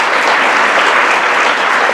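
Loud, dense applause from a convention panel audience fills the room steadily, with many hands clapping at once and no voices standing out.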